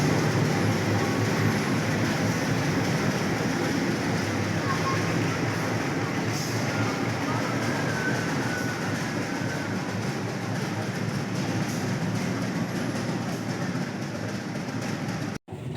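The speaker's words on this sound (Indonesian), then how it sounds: "KA Pandanwangi telah diberangkatkan dari stasiun Ketapang Banyuwangi menuju stasiun Jember" The Pandanwangi local train moves through Ketapang Banyuwangi station bound for Jember, a steady broad rumble of wheels and engine with faint clatter throughout, loud and close, ending abruptly.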